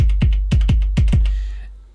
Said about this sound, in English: So I have the default kick drum from the machine drum,